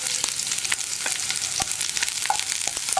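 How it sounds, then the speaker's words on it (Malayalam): Sliced onions hit hot coconut oil with popping mustard seeds in a pan for a Kerala cheera payar mezhukkupuratti, giving a close, steady sizzle dotted with sharp crackles and pops, with no talk. "നമുക്കിതിലേക്ക് നമ്മൾ കട്ട് ചെയ്ത് വെച്ചിരിക്കുന്ന സവോള അല്ലെങ്കിൽ ഉള്ളി ചേർത്ത് കൊടുക്കാം."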